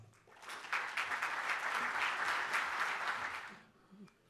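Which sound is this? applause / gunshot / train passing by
applause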